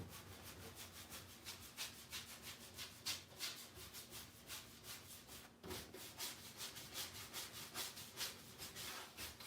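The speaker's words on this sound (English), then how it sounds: "rub the top part of it off so I get it down in those grooves" Turquoise wax rubbed off a painted surface by hand, a quiet rhythmic scrubbing with steady back-and-forth strokes, close and alone.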